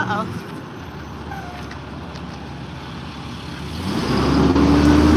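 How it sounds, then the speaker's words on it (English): A trash truck drives along a public street during a morning walk, its engine rumbling under a person's talking and swelling louder as it draws close near the end. "I let the trash truck by."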